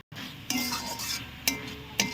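Banana flower curry with lentil fritters stirred in a pan, a few distinct scraping strokes with clinks of the utensil against the metal, each stroke followed by a soft rustle, close up.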